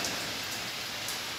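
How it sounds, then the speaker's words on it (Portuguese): Heavy rain falls steadily, a dense even hiss of drops on surfaces with no break. "Chovendo bastante aqui"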